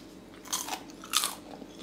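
Two crisp bites and crunches into light microwave popcorn, close up, with a short pause between them and no talking.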